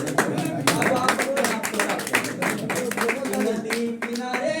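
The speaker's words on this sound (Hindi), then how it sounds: "यहाँ पे ताली बजाइए आप" An audience at a Hindi poetry recital breaks into clapping, a dense run of sharp hand claps that continues for several seconds, with a voice faintly speaking over it.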